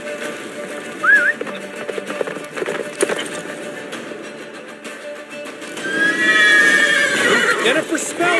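Geralt's horse Roach gallops and neighs in The Witcher 3, with a couple of sharp whinnies over hoofbeats and other game sounds, and voices talking in the background.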